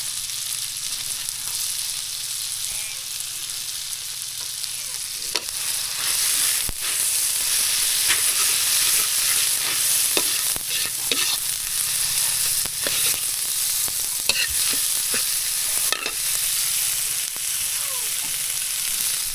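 Tomatoes frying with shrimp paste (alamang) in a pan, a loud steady sizzle with occasional scraping stir strokes, close and continuous, no talking.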